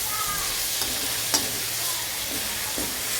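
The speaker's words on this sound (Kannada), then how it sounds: "ಹಸಿ ವಾಸನೆ ಹೋಗಂತ ಹುರ್ಕೊಳ್ಬೇಕು" Ginger garlic paste frying in oil in a pan for brinjal curry, a soft, steady sizzle with a few light stirring scrapes and taps.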